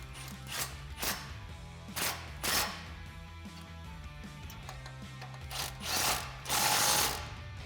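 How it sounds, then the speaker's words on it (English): A ratchet with a 14mm swivel socket tightens factory bolts while a Flowmaster American Thunder dual exhaust goes onto a 2016-2020 Tacoma, giving quick bursts of clicking in short irregular strokes over a low background hum. "we can snug those up with the 14mm swivel socket that we used to remove them"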